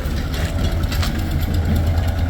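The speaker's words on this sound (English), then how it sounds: "there is a tractor wagon coming up here because there are ongoing restoration work" A tractor pulling a wagon comes up through the Ephesus ruins near Kusadasi, Turkey, for restoration work, with a steady, close engine chugging and idling under light, uneven rattling.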